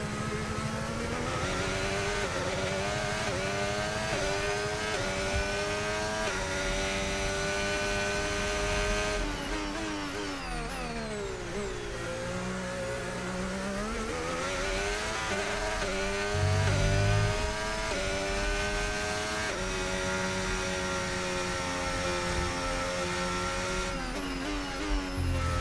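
A Formula 1 car screams through a lap in F1 25, its engine tone rising steadily under hard acceleration, then dropping through a rapid series of downshifts into a corner before climbing again, loud and continuous throughout.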